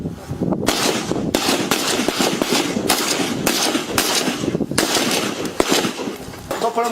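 Rapid volleys of rifle fire at a shooting range, sharp cracks repeating in quick irregular bursts, loud and continuous throughout.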